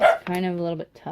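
Household dogs let out a short, loud, tonal bark-like yelp, close by and overlapping with a person talking.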